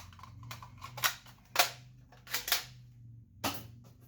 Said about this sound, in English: let's try and see what happens when we fire only 1 dart